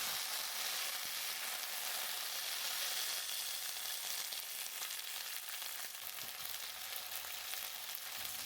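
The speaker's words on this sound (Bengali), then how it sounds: "এখানে দেব তেল একটু পাঁচ ফোড়ন" Panch phoron whole spices frying in a little hot oil, a steady close, bright sizzle with fine crackling that continues throughout without talk.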